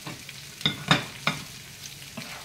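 Boneless, skinless chicken pieces frying in a pan with softened peppers and onion, stirred with a few scraping strokes over a low sizzle, close and moderately quiet with no talking.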